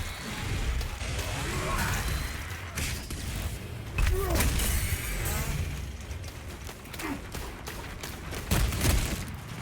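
Rapid bolt pistol fire in Warhammer 40k: Space Marine II, dense bursts of punchy shots and clanking mechanical combat noise running continuously, loud and close with other battle sounds mixed in.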